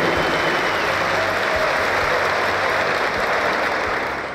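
Loud audience applause fills a hall at the FIESC Knowledge Olympiad opening ceremony in Lages, a continuous, thick roar of clapping that stays strong throughout and tapers slightly at the end.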